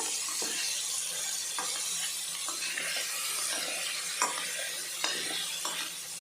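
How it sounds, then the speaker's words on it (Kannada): Paneer pieces fry in hot ghee for hotel-style paneer biryani, a steady broadband sizzle with a few soft utensil taps and stirring clicks, close and continuous with no talking. "ತುಪ್ಪಗೂ ನಾನು ಒಂದು ಪನ್ನೀರ್ದ ಪೀಸನ್ನು ಪಾಡೊಂದುಲ್ಲೆ. ಗೋಲ್ಡನ್ ಕೆಂಪಾಪಿನ ಮುಟ ಒಂದು ಜಸ್ಟ್ ಫ್ರೈ ಆವಾಡು"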